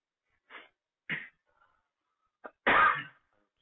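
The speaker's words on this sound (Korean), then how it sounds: "기침이 또 시작되는 것 같은데" A few short explosive coughs, close by, with quiet gaps between them and a final loud, harsh burst at the end.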